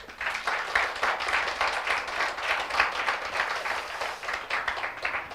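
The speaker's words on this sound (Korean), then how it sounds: "잘 오셨습니다 하고 박수로 환영하겠습니다" A church congregation claps together in welcome for visitors at a Sunday morning service, a dense, even wash of many hands that holds steady for several seconds with no talking over it.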